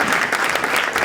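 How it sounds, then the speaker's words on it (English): A brief, loud burst of audience applause greeting speaker Rodney Grant at a politics panel event, dense clapping from a crowd that stays steady across the short moment. "Can we give a big round of applause to Rodney?"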